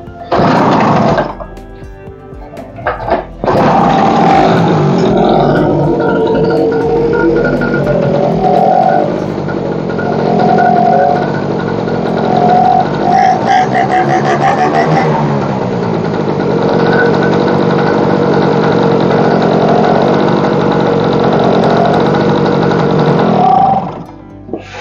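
An old Chinese two-stroke generator is kickstarted and catches. It settles into a loud, buzzy, continuous engine drone that runs close by for over twenty seconds with slight wavering, then cuts off near the end.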